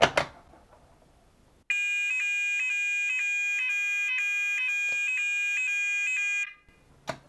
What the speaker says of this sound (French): On peut faire déclencher l'alarme. On peut faire sonner l'alarme.